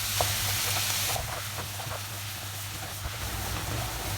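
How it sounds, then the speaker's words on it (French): Ground meat sizzling in a hot pan as a wooden spoon breaks it up, a steady loud frying hiss with scattered soft scraping taps, close and continuous, with no talk. "je vais bien taper avec ma cuillère en bois pour bien égrener la viande au fur et à mesure de la cuisson"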